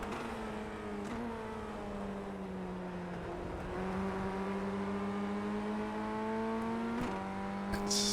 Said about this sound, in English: you can just hear the engine note change as he lifted